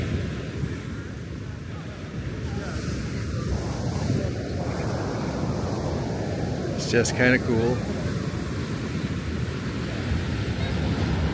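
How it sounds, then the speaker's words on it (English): Ocean waves wash against stacked rocks on a San Francisco beach, a steady broad roar with wind buffeting the microphone throughout, while a person talks over the surf. "The ocean doing its thing."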